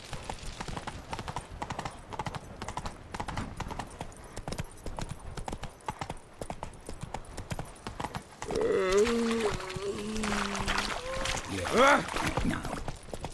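Roach the horse galloping in The Witcher 3, rhythmic clip-clop of hooves running steadily throughout, with a loud neigh rising partway through and someone talking over the action.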